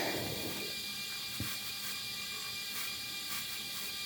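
A sewing machine runs steadily, understitching the front hip pockets of a pair of women's slacks, with a continuous mechanical whir and faint clicking, close and alone.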